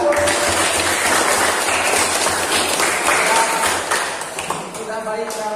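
A classroom group gives a long round of applause for group 3's presentation, dense and loud clapping from many hands that thins out toward the end.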